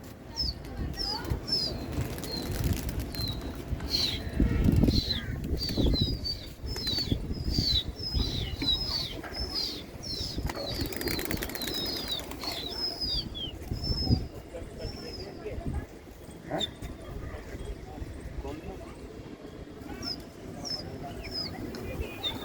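Katiya pigeons flap their wings repeatedly at a rooftop loft in Jafrabad, New Delhi, a busy patter of wingbeats close by, with high bird chirps and voices talking throughout.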